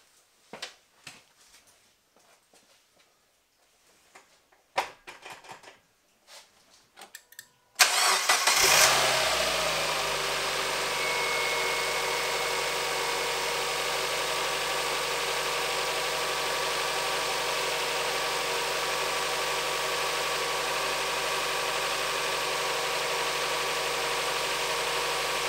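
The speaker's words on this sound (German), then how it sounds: "jetzt gucken wir mal, ob der Motor läuft" After a timing belt change, a Mazda MX-5 engine is cranked and fires up following some quiet workshop clatter, then runs at a steady, close idle for the rest of the time with no one talking.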